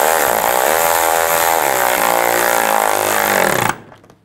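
Power tool tightening headlight bolts on a 2007-2013 Mini Cooper S, a loud continuous whirring drone that slows in pitch before stopping abruptly near the end, no talking.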